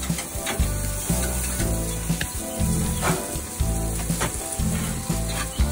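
Pork ribs sizzle and smoke on a hot barbecue grill, a loud, close, continuous crackling hiss with periodic bursts of spattering and faint scraping.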